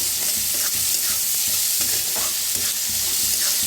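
Chopped onion, ginger-garlic paste and green chilies fry in hot oil for dum aloo, a loud, continuous close-up sizzle with faint scraping from stirring.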